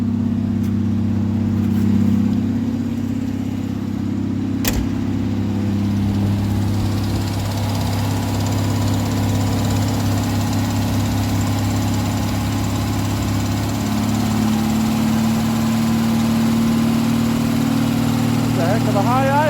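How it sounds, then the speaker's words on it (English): A 1982 Ford Granada engine, just started, idles high while warming up, a steady loud drone that holds for the whole span with slight pitch shifts and no revving. "Heck of a high idle. It's warming up."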